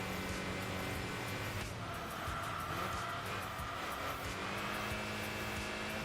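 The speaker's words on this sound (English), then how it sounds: "Oh, listen to that little inline 4." Inline-four engine of a wagon in Enthusia Professional Racing drones continuously at steady revs, a dense, even engine tone that fills the whole stretch with no talking.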